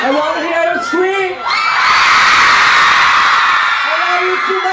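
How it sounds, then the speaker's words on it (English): A large concert crowd at a K-pop fan event screams and cheers in a sustained, loud roar that swells after a few shouted voices at the start. "I want to hear you scream."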